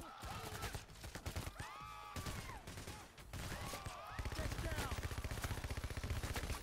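Gunfire rattles through a heist shooter game, rapid bursts of automatic fire and repeated shots, loud and dense, growing into a steady machine-gun clatter in the second half, with players shouting over it.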